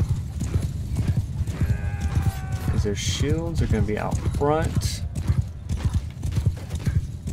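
Cavalry horses' hooves clatter in rapid clip-clop in Mount & Blade 2: Bannerlord battle, with a horse whinnying midway and someone talking over the steady hoofbeats.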